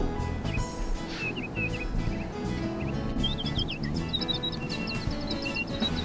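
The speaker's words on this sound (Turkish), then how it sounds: "Oh, rengarenk bir papağan." A colorful parrot chirps in short bright bursts, then a quicker run of repeated high tweets, heard over a low background hum.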